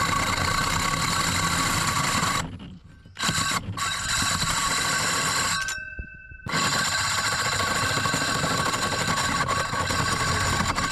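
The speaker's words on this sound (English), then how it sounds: "we're cutting through the roof for the hole for the solar vent. 4 3/4 inch hole saw." A 4 3/4 inch hole saw cutting through a roof for a solar vent, a loud, close, continuous whining drill drone that stops briefly twice, then resumes at full strength, alone without talk.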